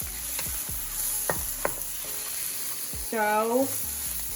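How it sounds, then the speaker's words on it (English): Vegetables frying in a pan are stirred a few times, a spatula scraping and tapping through a steady soft sizzle, with a brief spoken word nearby. "Just give it a few little stirs."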